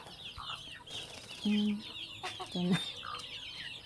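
Young native hens in a backyard flock give short, repeated clucks up close, with a few louder calls standing out over a soft background of other birds and a brief spoken word.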